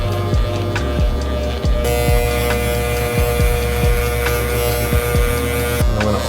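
Cheap electric hair clippers with the lever closed hum and buzz steadily while cutting hair at home, close and loud, with repeated short thumps and scrapes as the blades pass over the head.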